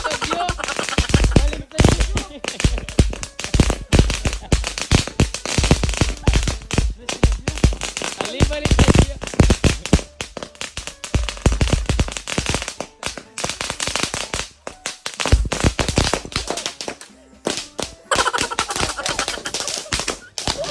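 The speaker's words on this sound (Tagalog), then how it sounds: "talagang hinaabol kami ng mga paputok" Firecrackers set off during a 90s-style celebration, lit the wrong way round, bursting in a dense, rapid crackle of sharp pops and bangs for the full twenty seconds, loud and close with hardly a pause.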